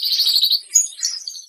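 A crested canary sings a bright, rapid high-pitched trill followed by a few short chirps and warbles, close and clear.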